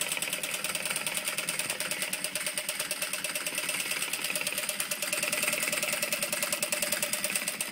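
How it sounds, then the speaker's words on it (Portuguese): Industrial sewing machine adapted for quilting and straight stitching, running continuously with a fast, even, rattling motor hum, close and steady throughout. "Eu estou numa máquina industrial adaptada ao quilt e costura reta."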